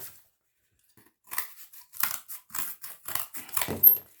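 Scissors cutting out a traced circle for a DIY Fortnite loot llama craft: close, crisp snips in a steady irregular series after a second of silence, with no talking.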